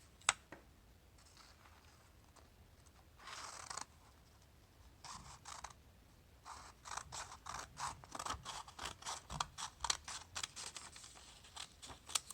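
Scissors cut through folded paper for a holiday paper tree, starting with a few faint scattered snips and building into a quick, regular run of crisp close cuts.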